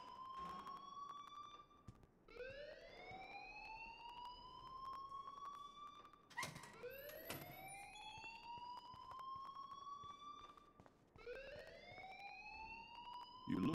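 Alarm ringing in the video game Life Is Strange, a faint repeating rising electronic wail in long sweeps, with clicks and soft sounds between cycles.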